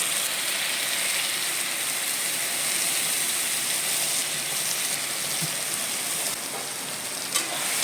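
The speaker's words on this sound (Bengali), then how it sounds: "এবার এটা একটু কষিয়ে নেব" Mustard spice paste frying in a pan fills the clip with a constant crackling hiss, occasional soft scraping as the pan is stirred, no voices.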